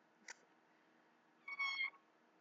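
A kitten meows once, faint and brief, after a soft earlier chirp, over a quiet low hum with no talk.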